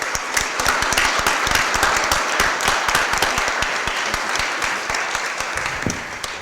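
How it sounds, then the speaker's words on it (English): A crowd at a St. Louis Board of Aldermen meeting applauds the Dream Center, dense sustained clapping from many hands filling the room without pause. "Let's give them a round of applause."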